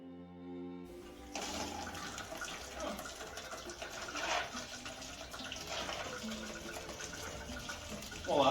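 Coolant drains from a hose on a Volvo 740 turbo diesel engine, a steady splashing stream of liquid pouring into a container, close and fairly loud throughout with a brief louder burst at the end.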